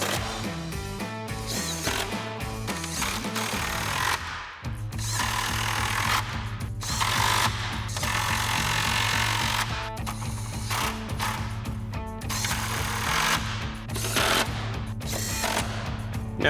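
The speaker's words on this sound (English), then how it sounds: "Now we'll grab our 10mm socket, and all of our shorter screws are going to be the one for our trim mounting points." A 10mm socket on a ratchet or driver runs trim mounting screws on a RAM 2500, giving a steady mechanical whirring broken by several clicking pauses, close and clear with no talk.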